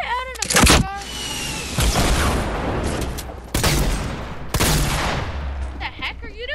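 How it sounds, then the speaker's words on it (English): Fortnite gunfire sounds off in several loud bursts of rapid shots, broken by short pauses, while players talk over the action. "I'm shooting some dude"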